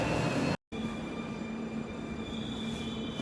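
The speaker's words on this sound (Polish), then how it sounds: "Wjeżdża pociąg." The Chemik passenger train from Płock rolls into a Polish station, ending its run at Katowice, with a loud, steady rumble of wheels and carriages that fills the clip, broken by one very short dropout near the start.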